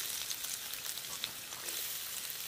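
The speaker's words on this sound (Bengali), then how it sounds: "তেল গরম হয়ে গেছে, এবার দিয়ে দেব পেঁয়াজ কুচি," Chopped onions frying in hot mustard oil, a soft continuous hiss and sizzle with small crackles, fairly quiet and steady.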